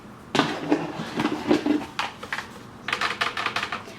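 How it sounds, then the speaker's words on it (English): A large, thick Alexander McQueen sneaker box is handled and opened up close, giving quiet, irregular taps, clicks and light cardboard scrapes in short clusters with no talking. "Maybe I'll do a little ASMR. Okay, unboxing."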